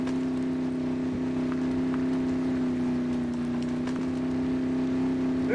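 A Jeep CJ7 Renegade engine driving off-road in MudRunner, a steady droning hum held at one pitch for the whole stretch with faint scattered knocks and no talk.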